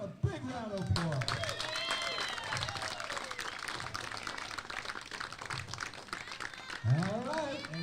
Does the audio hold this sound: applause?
yes